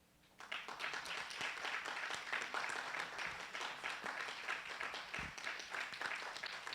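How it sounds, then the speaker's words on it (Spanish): A church congregation applauds together, a dense, sustained wash of clapping that begins abruptly and continues steadily for several seconds, with no speech over it. "Denle un aplauso a Cristo,"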